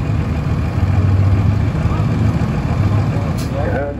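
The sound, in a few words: vintage engine running at a show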